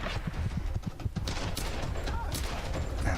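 Gunfire in the video game Tomb Raider: a burst of rapid shots with repeated sharp broadband cracks over steady game ambience, loud and close, with a voice talking over parts of it.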